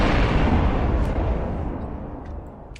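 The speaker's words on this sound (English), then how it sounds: "give Mr. Christopher his explosion" An explosion sound effect: a loud, deep boom that starts at once, then rumbles and slowly fades over a few seconds, with no voices.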